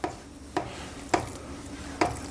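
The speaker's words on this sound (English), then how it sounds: "Continue to mix until it's all thoroughly mixed" Mashed potato and lentils worked together in a bowl, four soft wet thumps of the spoon against the bowl at roughly half-second intervals over a low steady background.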